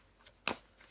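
Tarot cards are handled and laid down in a tarot reading, with a soft faint flick followed by one sharper close snap of a card.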